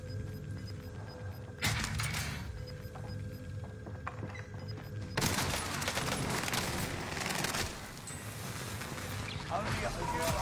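PPSh-style submachine gun fire in the Warzone video game comes in rapid close bursts that start and stop, with a long dense burst in the middle. People talk quietly underneath the shooting.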